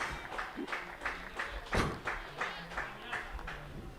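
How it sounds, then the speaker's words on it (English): Spectators at a T20 cricket match applaud a piece of fielding with scattered, uneven claps and thuds that rise and fall over a few seconds, moderately close, with a faint voice under them. "applause there for the fielding"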